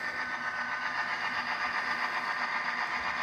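A Bachmann Pennsylvania F7 model diesel locomotive's DCC sound unit rising slightly in throttle, a steady electronic engine drone with a buzzy mid-range hum, continuous and fairly faint throughout.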